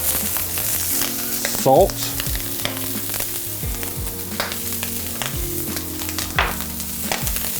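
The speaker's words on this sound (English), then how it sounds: "I'm gonna add some more oil to my pan. I'm gonna add my corn to the pan. I'm gonna add my asparagus" Corn and asparagus sizzle and fry in an oiled pan, a steady crackling hiss with occasional clinks and stirring scrapes, close and fairly loud with no talk over it.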